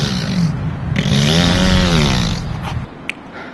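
A chainsaw runs close and loud for a few seconds during an excavation, its rough droning engine note rising and wavering before tailing off, with a faint click near the end.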